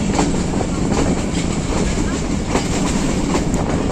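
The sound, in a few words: overloaded Kohat Express train running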